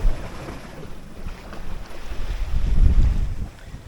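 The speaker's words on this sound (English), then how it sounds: "The wind has also increased." Wind buffets the microphone aboard a sailboat offshore in fog, a loud, close roar that swells and eases, with water and hull noise underneath.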